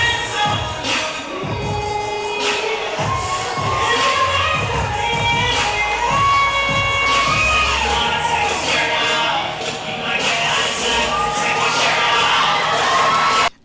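A crowd at a bodybuilding show cheers loudly for a guest poser, a dense roar of shouts and whoops that stays strong throughout over thumping music.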